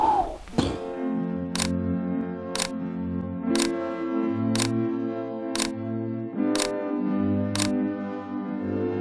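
Camera shutter clicks fire one after another at a steady pace, about one per second, over a low droning hum.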